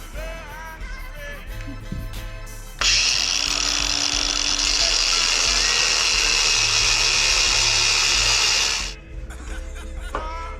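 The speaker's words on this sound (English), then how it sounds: "I'm going to just basically use the angle grinder and start cutting some of this material off." An angle grinder cuts into the metal of a turbo header on a Mustang, a loud, steady, high-pitched shriek lasting about six seconds that ends abruptly, with quieter workshop noise before and after.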